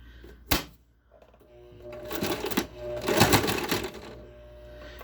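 A sewing machine stitches a fabric mask in short bursts, a quick rattle followed by a longer, louder run of rapid needle clatter, close and clear.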